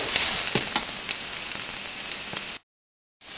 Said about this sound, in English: So we'll stir those up a bit, let the onions saute,